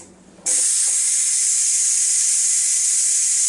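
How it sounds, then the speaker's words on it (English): Steam blasts from a Ninja Foodi Deluxe pressure cooker on quick release, starting abruptly after a brief quiet and holding as a loud, steady, high hiss close by. "I'm just going to go here and give it a quick release"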